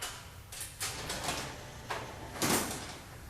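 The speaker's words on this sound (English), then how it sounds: "Door open." A sliding door opens in an audiobook drama, heard as a series of whooshing, hissing swishes and a louder final slide among faint background tones.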